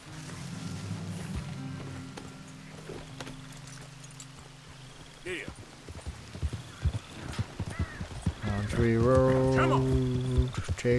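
Horse in the video game Red Dead Redemption 2, with hooves clip-clopping and a snorting whinny near the end, heard among game sounds and music while someone talks.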